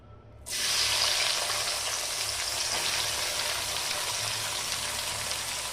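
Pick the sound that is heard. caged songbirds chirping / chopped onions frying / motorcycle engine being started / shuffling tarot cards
chopped onions frying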